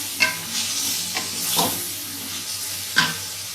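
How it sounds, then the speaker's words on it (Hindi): Chopped tomatoes hit a pan of frying green chilies for a Delhi-style masala tinda pulao, setting off a steady close sizzle with a few sharp clatters as the spoon stirs. "अब हम इसमें कटे हुए टमाटर डाल देंगे"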